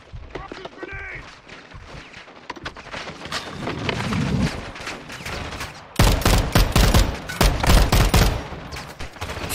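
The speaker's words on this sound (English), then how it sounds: "they shoot me through a goddamn little window?" Call of Duty Modern Warfare 2 campaign firefight: bursts of rapid gunfire and heavy shots, growing denser and louder in the second half, with a voice speaking in between.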